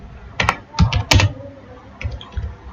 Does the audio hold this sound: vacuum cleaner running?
no